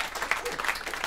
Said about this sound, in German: einen großen Applaus für dein Engagement